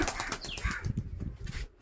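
A burst of wings flapping rapidly as released pigeons take off, the flutter fading quickly as they fly away.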